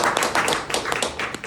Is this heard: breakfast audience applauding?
yes